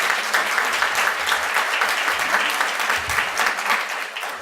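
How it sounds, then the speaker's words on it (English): An audience gives a dense, sustained round of applause at a community education event, many hands clapping together at close range throughout. "Let's give them a big round of applause."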